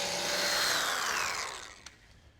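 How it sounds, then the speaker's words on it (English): A power drill whirs at high speed, its pitch sliding downward as it bores stud holes into a pickup truck bed, then spins down and stops with a small click. "Now we can drill the holes for the stud."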